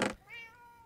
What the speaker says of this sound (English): And I keep hearing a cat.